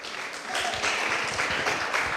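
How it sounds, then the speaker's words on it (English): Kids at a cricket camp clap for names being called out, starting quieter and then settling into a moderate, uneven patter of many hands with audible individual claps. "the clap's getting weaker and weaker"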